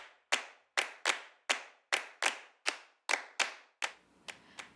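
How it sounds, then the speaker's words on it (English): Hands clap a syncopated Coco rhythm from northeast Brazil, about a dozen sharp, close claps in an uneven pattern, ending with a few softer taps, with no talk. "Sereia is a Coco, which is like a type of rhythm that comes from northeast Brazil, which sounds like this."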